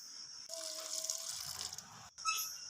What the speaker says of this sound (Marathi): एवढं पाणी टाकून घेतलं आहे मी